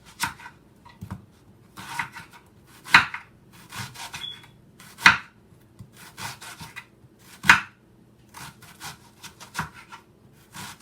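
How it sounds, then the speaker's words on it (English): A knife chopping red onion on a board, with irregular scattered knocks and scraping strokes that come in small bursts with pauses between them, close by and with no voices. "So you cut up some red onion."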